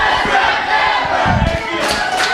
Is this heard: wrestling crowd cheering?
yes